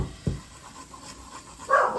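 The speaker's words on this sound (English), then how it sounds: "Excuse the dog in the background." A dachshund panting quietly in the background of a kitchen, soft breathy huffs with a couple of faint bumps, ending in a slightly louder rustling burst.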